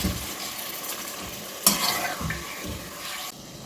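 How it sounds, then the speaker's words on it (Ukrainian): Meat sizzles and fries in a pan over high heat while being stirred, giving a continuous crackling hiss with scraping strokes and a brief sharp clatter midway; no voices. "обсмажую на великому вогні до того моменту, як випариться вся рідина зайва"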